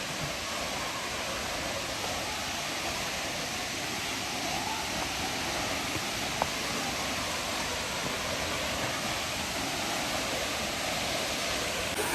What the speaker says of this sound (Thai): อยู่ข้างหน้านี่เองน้ำตก